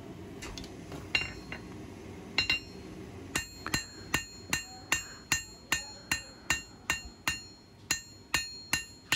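Hammer blows ring out on steel at an anvil during a blacksmithing session, a few scattered strikes at first, then a steady, evenly spaced run of about a dozen loud, bright metallic clangs close by.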